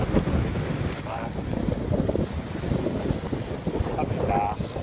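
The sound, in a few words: wind gusts on a sailboat under way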